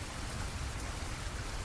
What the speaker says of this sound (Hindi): लगातार कुछ समय में रुक रुक कर बारिश आ जाती